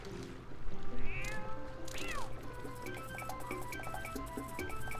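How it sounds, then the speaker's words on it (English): A cat meows in the video game The Legend of Zelda: Twilight Princess HD, with a couple of rising cries over a busy bed of game music and ambient sound. "Cat running with the fish music."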